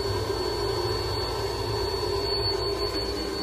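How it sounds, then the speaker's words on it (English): A CVAC altitude simulation machine runs with a steady airplane-like roar and hum, constant throughout with no break. "I'm actually in a CVAC, altitude simulation machine,"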